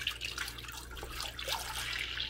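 A gallon of milk poured into a cooking pot, a steady close liquid stream with gentle gurgling and splashing that runs unbroken throughout.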